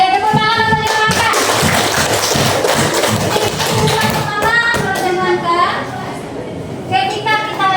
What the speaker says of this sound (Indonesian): Tepuk tangan untuk Ibu Maka